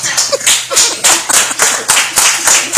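A comedy show audience claps in sharp, loud bursts, a rhythmic run of close hand claps repeating roughly every third of a second, with no talk over them.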